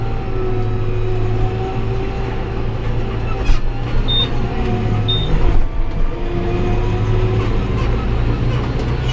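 A tractor engine idling and revving as the accelerator is pressed during night work in the cab, a loud low steady rumble with slight surges and a few clicks inside the cab.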